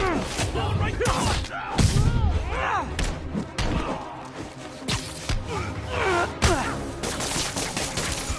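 Enemy gunfire in Marvel's Spider-Man, scattered shots and thuds through a busy combat mix, moderately loud beneath shouting voices and game effects.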